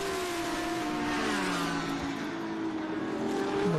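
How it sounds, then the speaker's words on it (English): A 2022 Lamborghini Huracan Super Trofeo race car drones past on a circuit, its engine note sliding downward as it nears and pulls away, loud and continuous. "But here comes your Lamborghini, about to start the roller coaster and come down for its last."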